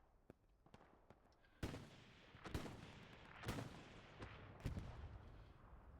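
Artillery shells landing in the Hell Let Loose World War II shooter during a competitive match, a series of heavy booms of varying distance punctuating a low rumbling battlefield backdrop.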